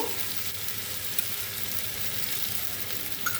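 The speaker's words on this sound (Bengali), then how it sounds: "এবার এর মধ্যে আলুগুলো দিয়ে একটু ভালো করে কষিয়ে নেব" Potatoes frying and being stirred into a cooked-down spice paste in a pan for a Bengali prawn, potato and pointed gourd curry, a steady close sizzle with soft stirring throughout, no voices.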